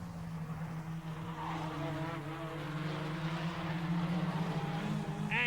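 Touring cars from the 1988 BTCC race at Donington Park, heard at speed: a continuous engine roar with pitch that climbs as the cars accelerate through the gears, steady and fairly loud with no talk.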